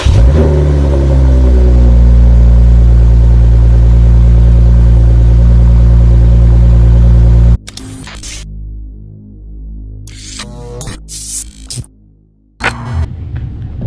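A 2011 Lexus IS350 engine warm-starts and idles with a loud, steady hum for several seconds, then cuts to quieter, intermittent bursts of noise as the car is pulled out.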